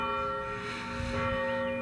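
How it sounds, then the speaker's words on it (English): Church bells ring with sustained, overlapping tones, steady and moderately loud, with a faint low rumble in the background. "Oh, there go the bells. Heaven's bells are ringing."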